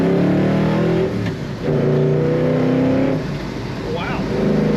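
A 1966 Ford Fairlane 500 two-door hardtop accelerates hard under throttle, its engine roaring loud and close with rising and shifting pitch, while a voice is heard briefly over it.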